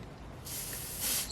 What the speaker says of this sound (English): I always spray it on my finger